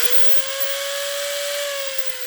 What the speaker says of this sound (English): I polish using just the 1/4-inch drill and a wire brush, something like this. It's going to make a little bit of noise